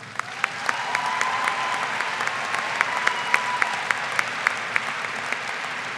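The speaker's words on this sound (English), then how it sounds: "Please give Jordan Wright a round of applause" Graduation audience at a Pikes Peak Community College commencement applauds an honoree, a steady roar of many hands with crisp nearby claps popping out, sustained evenly throughout.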